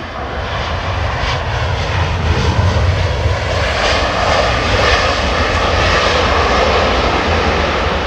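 A jet airliner roars steadily through crosswind landings at London Heathrow in wind and rain, a loud continuous engine rumble mixed with gusting wind noise, with no voices.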